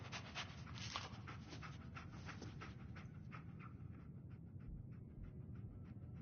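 A dog in the Fallout video game panting steadily with quick rhythmic breaths, close and fairly quiet, continuing alone throughout with no talk.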